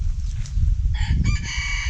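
A Thai fighting cock crows loudly and close by, a single strained crow rising out of a steady low rumble of background noise.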